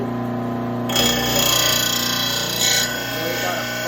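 A mower blade grinds against a VEVOR blade sharpener in a steady, rasping whir that starts abruptly and carries on close by, swelling slightly twice.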